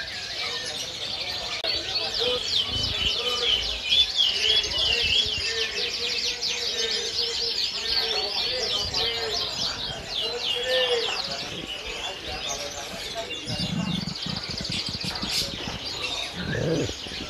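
Canaries sing continuously in bright, rapid trills and warbles at the Pramuka bird market, with occasional people talking underneath.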